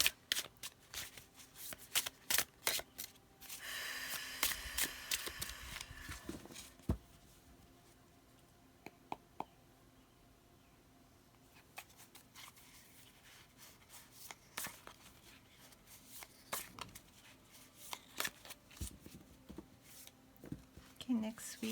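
Tarot cards being shuffled in soft, quick riffling bursts and scattered taps, close and quiet, with a voice speaking now and then between them.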